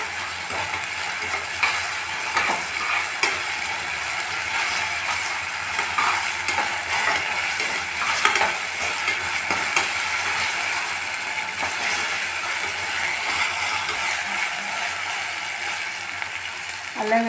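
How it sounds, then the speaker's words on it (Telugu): Ginger garlic paste fries in a pan with a continuous broadband hiss and scattered faint crackles, steady throughout. "అల్లం వెల్లుల్లి పేస్ట్ కూడా వేగిందండి"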